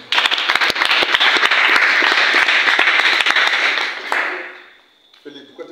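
A church congregation claps loudly and steadily in praise of the Lord for about four seconds, then the applause fades out and a voice follows.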